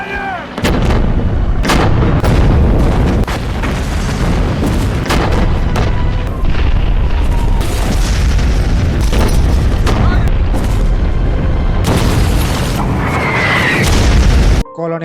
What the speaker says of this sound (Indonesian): Mayor Reed kemudian memberikan tembakan bantuan kepada Batalion 2.